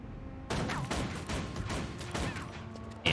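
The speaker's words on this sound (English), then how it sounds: "Fire a volley of shots at your foe." A rifle in Guild Wars 2 fires a quick volley of shots, several sharp cracks in a row over steady game ambience. The shots sound moderately close and are not very loud.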